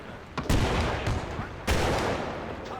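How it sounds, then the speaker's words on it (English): Loud bursts of gunfire and blasts crackle in quick succession in Arma 3, with two heavy booming explosions standing out over the continuous din of combat. "Gosh, those explosions right in front of me."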